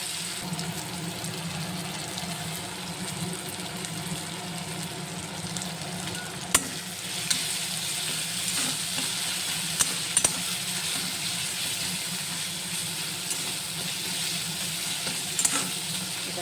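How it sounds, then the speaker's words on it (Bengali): Onion paste frying in a pan, a steady close sizzle lasting throughout with a few isolated clicks and scrapes of a spoon, no voices. "এই পেঁয়াজ বাটা দিলাম। এটাকে একটু কষিয়ে নেব,"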